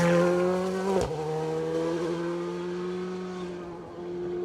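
A rally car on an asphalt stage of the Argyll Rally brakes over a compression as its tyre catches. The loud engine note drops sharply, then holds a steady, buzzing pitch as the car passes and slowly fades.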